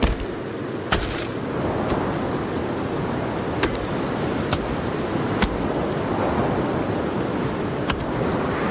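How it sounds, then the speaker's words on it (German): Stormy wind roars continuously in the survival game Sons of the Forest, a loud dense rushing bed with occasional sharp clicks or gusts over it, no talking heard. "Stürmt ganz schön, ne?"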